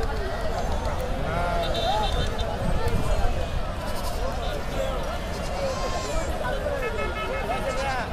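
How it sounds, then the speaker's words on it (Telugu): Rams and sheep bleat in a crowded livestock market near Mydukur, with overlapping calls rising over a steady hubbub of voices and trampling. "ఇక్కడ ఒక్కట పెద్ద పొట్టేలు ఉన్నాయి"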